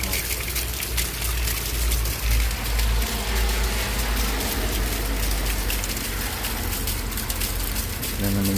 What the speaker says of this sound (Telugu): నిన్న నుంచి వర్షం వర్షం వర్షం